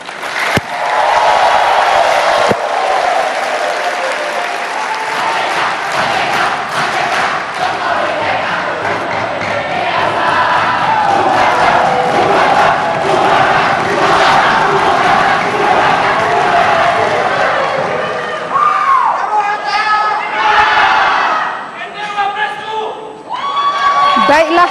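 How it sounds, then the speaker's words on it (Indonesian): Loud sustained applause and cheering from a live audience at an Indonesian vice-presidential candidates' debate in 2014, with whoops and shouts rising over the clapping before it thins out near the end. "saya persilakan untuk memberikan aplaus yang meriah"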